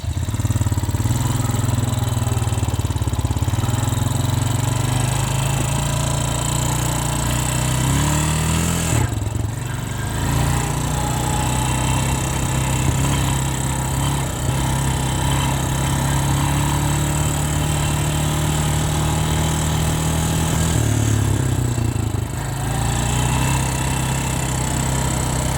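A 2001 Honda Rancher 350 ATV with a freshly rebuilt top end runs steadily under a rider, its engine drone loud and continuous with two brief throttle dips and recoveries partway through.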